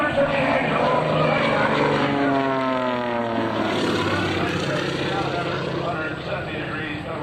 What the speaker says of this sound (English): Now watch as Frank performs a 270-degree 4-point hesitation roll